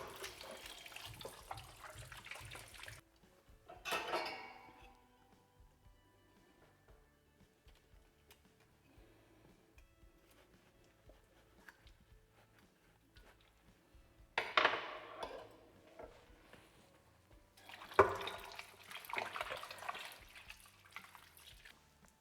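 A local octopus washed under a running kitchen tap: bursts of gushing water at the start and again near the end, separated by quieter stretches of dripping and handling, with no speech.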